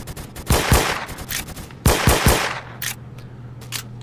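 Sniper rifle gunfire in a first-person shooter game, with loud sharp shots in two quick bursts of two or three, each trailing a short echo, over a steady low in-game hum.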